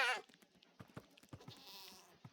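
Goats bleating in the Minecraft video game, several short cries in a quick rhythm, fairly clear and close, with no talk over them.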